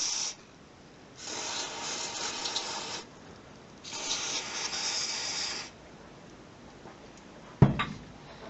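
Cleaner sprays into a Pentax H1A camera's sticking shutter in two sustained hissing bursts of about two seconds each, close and fairly quiet, with a brief hiss at the start and a sharp knock near the end.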